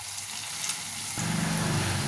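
Curry leaf powder ground with tamarind goes into a hot tempering pan, and the soft frying hiss jumps partway through into a louder, fuller sizzle that holds to the end.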